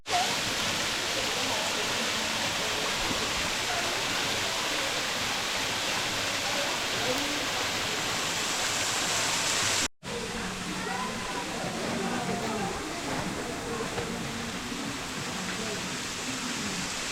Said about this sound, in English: I like the sound of that waterfall